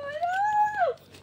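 A dog lets out a single drawn-out whine that rises, holds, then slides down at the end, close and moderately loud with nothing else over it.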